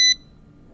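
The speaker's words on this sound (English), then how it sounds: "we've toyed around with both these buzzers" A short, loud electronic buzzer tone, a single high-pitched beep lasting a split second, then near silence.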